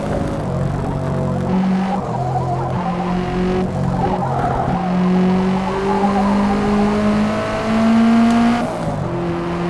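Tires skid and squeal on a Subaru S209 racing in Forza Motorsport, layered over a steady, loud engine drone whose pitch climbs and dips through the corners, with no talking.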